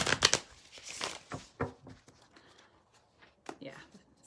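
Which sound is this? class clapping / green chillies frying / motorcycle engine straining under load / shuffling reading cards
shuffling reading cards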